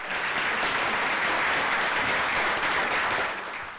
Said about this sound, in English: Please, another loud applause for Janis.